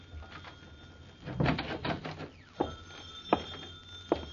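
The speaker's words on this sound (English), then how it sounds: "Uh-oh, the phone." A telephone rings in an old-time radio drama, with a few sharp bell bursts spaced about a second apart, moderately loud against a faint background, each ring short and clear.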